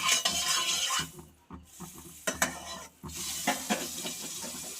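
Butter sizzling in a kadai as it is stirred, a soft crackling hiss with intermittent scraping and light clatters of the spoon against the pan, quiet and close, with no voices.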